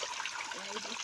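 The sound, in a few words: spring water flowing strongly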